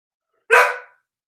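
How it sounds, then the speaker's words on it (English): One sharp, loud dog bark close by, a single short burst in an otherwise quiet room. "My dog is being very irritating today"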